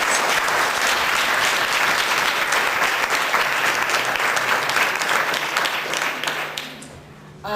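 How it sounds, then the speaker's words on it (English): A full audience gives a long, loud round of applause at a breast cancer awareness launch event, dense and sustained before tapering off near the end as someone starts to speak. "Everybody, please give her a round of applause."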